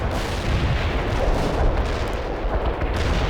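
An artillery barrage in the real-time strategy game World in Conflict makes a dense, continuous rumble of overlapping explosions, loud and unbroken throughout.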